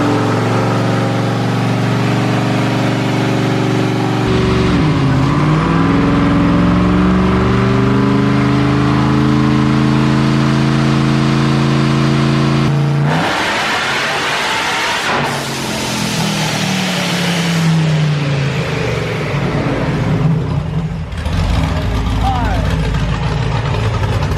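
A car engine revs hard and accelerates up through the gears, loud and close, its pitch sweeping up repeatedly with a shift break midway and rougher roaring near the end.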